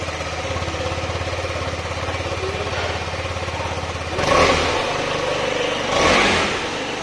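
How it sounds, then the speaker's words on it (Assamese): A KTM Adventure 250 motorcycle idling up close in a showroom, its exhaust note steady and throbbing before two sharp revs burst out and fall back to idle. "বাইকৰ এক্সজষ্টটো এবাৰ শুনি লওক আপোনালোকে।"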